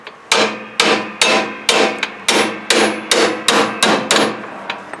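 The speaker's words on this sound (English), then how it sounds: "You can hammer against it." Steady hammer blows ring out on metal while installing a three-point hitch on a John Deere 318 tractor, about ten sharp strikes in an even rhythm, close and loud with no voices.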